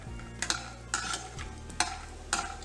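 Almonds fry lightly in a pan for besan laddoos, a steady soft sizzle broken by repeated sharp scrapes and clinks of a spatula stirring them, close and clear with no talk.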